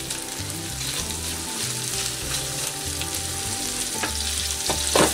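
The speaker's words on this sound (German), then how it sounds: "Und dann gebe ich in die heiße Butter den Lachs." Salmon pieces fry in hot butter in a pan, giving a steady, dense sizzle and crackle with a low hum beneath, close and continuous throughout.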